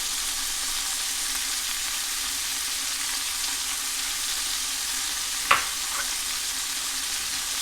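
Vegetables and garlic sauté in a pan for lentil soup, a steady close sizzle holding throughout with a single sharp clack of a utensil against the pan just past the midpoint.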